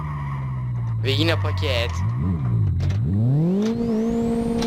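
A Renault Megane skids through a handbrake drift in a game, its engine revving and whining up and down alongside bursts of tire squeal; someone speaks briefly over the loud, close car noise.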